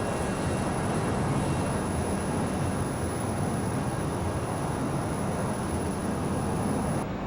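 A Learjet 35A's jet engines drone in flight in a simulator game, a loud, steady broadband roar with no breaks.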